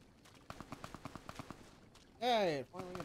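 A quick rhythmic string of about a dozen gunshots in Fallout: New Vegas rattles off, followed by a voice exclaiming, then another short vocal sound.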